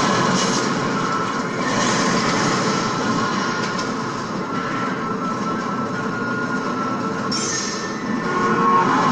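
A video game train rumbles steadily along tracks, a continuous loud clatter and roar with a brief high screech near the end.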